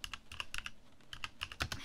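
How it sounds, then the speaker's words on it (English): Fast, light clicking of keys on a computer keyboard, typed close up in a quiet ASMR setting, with crisp irregular strokes in quick bursts. "Keyboard ASMR."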